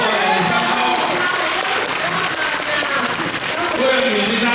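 Audience applause at a packed Cantonese opera curtain call, dense steady clapping from a crowd throughout, loud and close with a faint voice under it.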